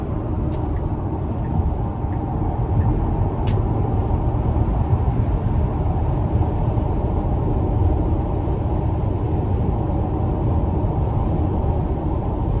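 A 2020 Tesla Model X Long Range accelerates hard on the road, a loud, steady low rumble of tyre and road noise with wind roar that holds constant throughout, without speech.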